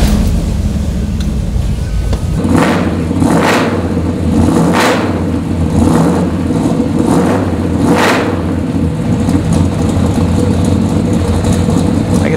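A 1969 Chevrolet Chevelle SS 396 V8 cranks and fires, then settles into a loud, lumpy idle, with several sharp revs blipping up and falling back over a steady deep rumble.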